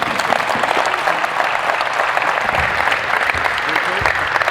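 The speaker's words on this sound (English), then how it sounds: "get this group a round of applause." A group gives a round of applause at a basketball coaches' courtside forum, steady dense clapping that is loud and close and continues throughout, with voices mixed in.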